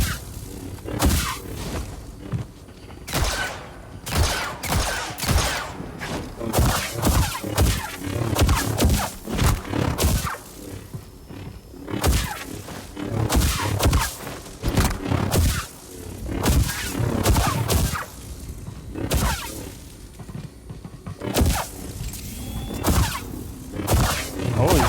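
Rapid blaster shots and booming impacts from Star Wars Jedi: Survivor fire in dense, loud bursts through the whole stretch, with brief lulls between volleys and no talking.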